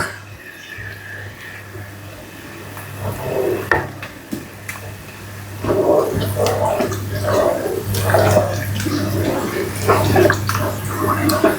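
Sayur lodeh vegetable soup with bendot is stirred in a pot, giving close, irregular sloshing and gentle liquid swirls with occasional soft knocks against the pot, over a low steady hum.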